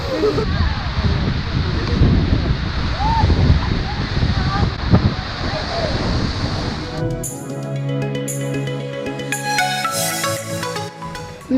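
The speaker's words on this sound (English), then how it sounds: "We've arrived here in Skogafoss Waterfalls." Skogafoss waterfall in Iceland roars as a steady, broad wash of falling water, loud and close for about seven seconds, then gives way to a tonal chiming passage; a voice is briefly audible early on.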